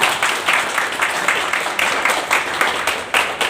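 An audience at a plan meeting in Vatva claps steadily, the dense patter rising and falling in regular pulses, fairly loud and close throughout with no voices over it.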